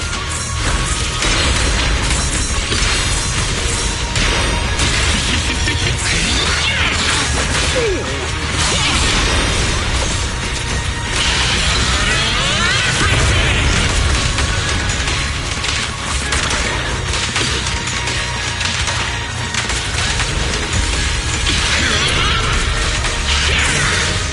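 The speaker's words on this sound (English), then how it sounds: "explosion." In the video game Zenless Zone Zero, a dense crashing explosion with splintering debris and whooshing bursts roars continuously and loudly, layered effects with no clear voices.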